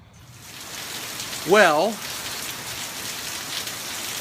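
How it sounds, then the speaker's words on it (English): Arizona afternoon rain falls steadily, making a dense, even hiss of drops on surfaces close by, while someone briefly speaks over it near the start. "in case there was any doubt of whether or not it does sometimes rain in Arizona, here is proof."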